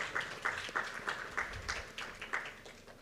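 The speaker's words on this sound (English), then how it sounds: "A round of applause for Dr. Manoj Kumar Jha." An audience at an illness-to-wellness awareness session applauds Dr. Manoj Kumar Jha with steady, moderately distant clapping, a rhythmic swell of many hands recurring every half second or so.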